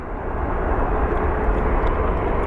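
A fixed-wing airplane roars past at Sky Harbor International Airport in Phoenix, a loud, steady broadband engine rumble with no talking.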